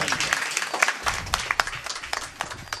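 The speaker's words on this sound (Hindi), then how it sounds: "इस भाव के लिए भी जोरदार तालियां आपकी होनी चाहिए।" Audience applause at a Ramlila festival opening ceremony, a dense wash of clapping from a crowd, moderately loud and sustained with scattered sharper individual claps throughout.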